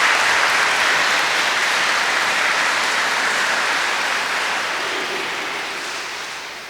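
Loud, dense applause fills a Catholic priestly ordination as two deacons are welcomed as new priests, a steady roar of many hands that eases off slightly toward the end.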